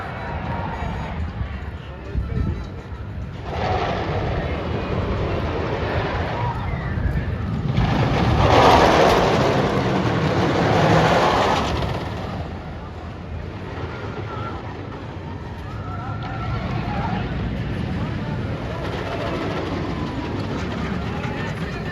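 The El Toro roller coaster at Six Flags Great Adventure roars along its track in a long rumbling, clattering ride that swells and fades, with voices heard over the noise.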